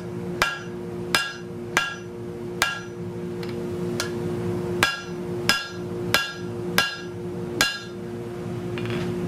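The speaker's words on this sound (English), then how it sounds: "I was hammering a little crooked there." Metal rings sharply under about a dozen hammer strikes on steel on an anvil at an uneven, deliberate pace, each blow bright and close with a short ringing tail.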